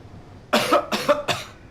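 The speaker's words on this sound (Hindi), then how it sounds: "खांसी करो।" A person coughs loudly three times in quick succession, each cough close and forceful, at a doctor's request in a clinic.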